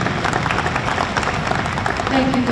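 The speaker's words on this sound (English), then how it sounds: "A round of applause for his genuine genius." Steady, dense applause from a crowd at the Augusta Futurity awards ceremony, continuous and fairly loud throughout.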